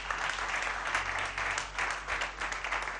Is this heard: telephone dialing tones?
no